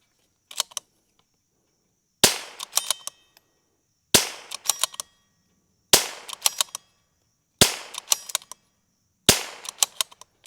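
A Rim-X rimfire firing during a 200-round reliability test: five sharp, close single shots spaced about two seconds apart, each followed by quick metallic clicks of the action, with a quieter pop before them.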